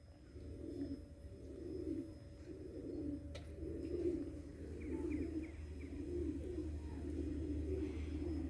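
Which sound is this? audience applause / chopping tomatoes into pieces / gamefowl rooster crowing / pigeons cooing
pigeons cooing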